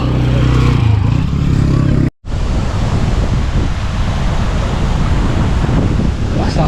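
Strong wind buffets the microphone in a rough, continuous roar, cut by a brief dropout near the start.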